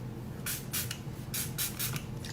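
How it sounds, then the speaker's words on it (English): Several short hissing sprays from a pump bottle of makeup setting spray, close by, in quick bursts of two and three. "Let's get our spray ready. Let's spray some of this."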